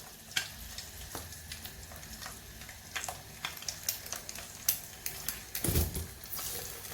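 Halved boiled eggs fry in a pan over medium-high heat with a soft, constant sizzle, broken by scattered clicks and scrapes of utensils and a louder clunk of handling near the end. No voices.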